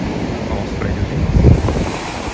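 Ocean surf rolls onto the sand at Praia de Itaparica in Vila Velha, a steady wash of breaking waves with wind buffeting the microphone, swelling briefly louder midway.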